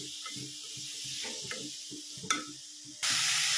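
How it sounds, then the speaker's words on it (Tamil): Amla (gooseberries) and curry leaves sauté in a hot pan, a steady close sizzle with faint stirring scrapes, growing louder near the end. "நல்லா வதங்கட்டும்."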